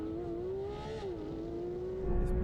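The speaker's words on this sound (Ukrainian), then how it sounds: "Порше завжди класно стартує." A Porsche 911 GT3 pulling away from a standing start during a drag race against a BMW M4 CSL, heard as a steady engine tone that rises, dips once and then swells louder toward the end.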